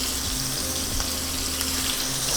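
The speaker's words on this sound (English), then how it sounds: "it's sizzling" Shrimp sizzle and fry in a hot pan, a dense, steady hiss of crackling oil close by with a faint low hum underneath, no voices.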